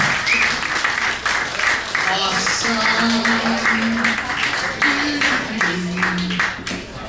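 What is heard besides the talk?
audience applause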